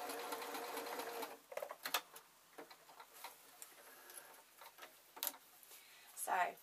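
A sewing machine stitches a glasses case beside a metal clasp, its faint ticking needle strokes coming in short, uneven runs with pauses, quiet and close.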